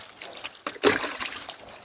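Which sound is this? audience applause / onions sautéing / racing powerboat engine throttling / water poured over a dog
water poured over a dog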